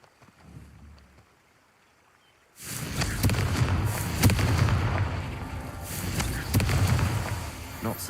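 A Confringo blasting spell goes off in Hogwarts Legacy: after a quiet, low stretch, a sudden loud burst of explosive crackle and rumble erupts and keeps booming and sizzling in waves for several seconds.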